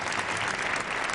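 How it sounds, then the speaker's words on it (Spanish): Dense, loud applause from a large crowd fills the moment, a continuous wash of clapping with no pauses, for the King of Spain. "Aplausos para el rey en el lugar que primero proclamó la monarquía."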